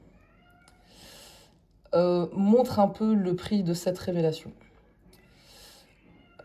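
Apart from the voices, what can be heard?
cat meowing loudly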